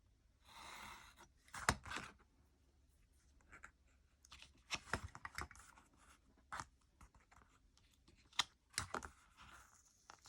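Paper being trimmed for a Happy Planner classic dashboard, a string of short crisp cutting and slicing strokes in irregular bursts, close and fairly quiet, with no talking.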